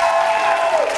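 An audience claps at a live concert in a Greek music venue, a dense, steady burst of many hands applauding at close range for about a second, with no speech over it.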